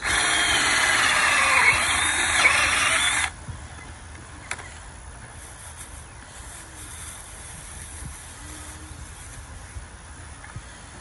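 A power drill boring into garden soil whirs loudly and steadily for a few seconds, then cuts off abruptly, leaving a faint outdoor background.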